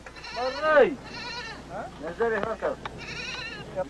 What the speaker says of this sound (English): When the goat we had been carrying with us was brought out for the kill